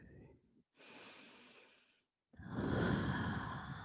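A person doing yoga takes a deep breath in through the nose and lets it out through the mouth: a steady airy inhale, a short pause, then a longer, louder exhale, close and alone.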